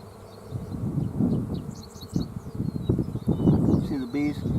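Honey bees crawl over a hive frame, giving a faint, continuous buzzing drone that sits under close handling noise and a little talk.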